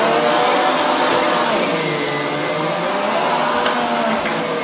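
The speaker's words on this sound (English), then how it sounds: "She's helping vacuum with Mom." A household vacuum cleaner runs steadily and loudly at close range throughout, its broad motor whine and airflow roar holding constant while it is pushed over carpet.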